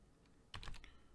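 A brief burst of a few quick keystrokes on a Commodore PET computer keyboard, close and fairly quiet, after a near-silent lead-in.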